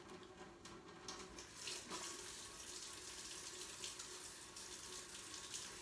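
Tap water runs steadily into a sink as hands are washed before making pizza, a continuous soft splashing rush with faint irregular changes as the hands move through the stream, no voices.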